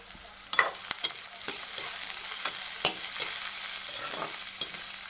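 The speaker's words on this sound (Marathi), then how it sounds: "आता मंद केलेलं आहे गॅस आता आपण टाकू कांदा हिरवी मिरची आणि लसण तर टाकून घेतलेलं आहे मी" Onion, green chilli and garlic fry in hot oil in a pan over low gas, a steady close sizzle broken by several sharp clicks and scrapes of a spoon stirring, with no talking.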